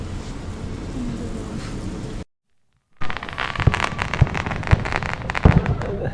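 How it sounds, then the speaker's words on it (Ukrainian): Fireworks bang repeatedly at close range during Independence Day celebrations in Ukraine, sharp irregular explosions over a steady crackling hiss, after a brief moment of silence. "День незалежності, кругом вибухи."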